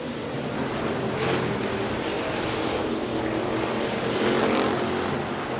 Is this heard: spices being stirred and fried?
no